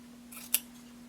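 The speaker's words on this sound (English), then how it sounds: "you can just trim your seam allowance to a 1/4 inch" Single quick snip of scissors trimming a fabric seam allowance to a quarter inch while sewing a hooded tunic, brief and fairly close over a low steady hum.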